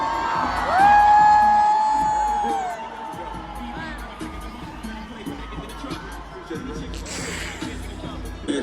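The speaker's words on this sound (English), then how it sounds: "Clap it up." A convention crowd claps and cheers loudly for a guest being welcomed onstage, with whoops at first, then the noise thins to scattered clapping and chatter as people talk nearby.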